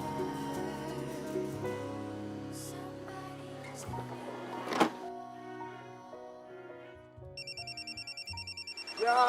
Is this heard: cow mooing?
no